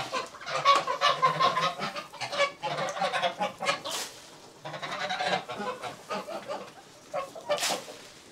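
A flock of chickens on a farm cluck and squawk continuously at close range, with overlapping calls and occasional louder cries, and no talk.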